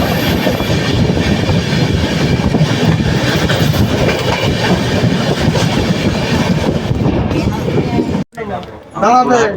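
Loud continuous rumble and rhythmic clickety-clack of the Mahananda Express, train 12378 from Haldibari to Sealdah, running on rails, ending abruptly with a short burst of nearby voices.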